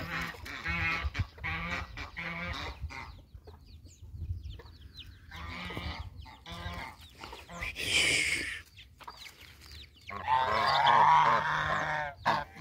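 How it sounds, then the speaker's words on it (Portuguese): A pair of geese, one African, honk repeatedly in loud, nasal bursts, several calls overlapping nearby, with a longer stretch of honking near the end. "Aí vem esse casal de ganso aí"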